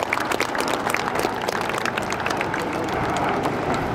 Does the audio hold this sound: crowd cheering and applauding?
yes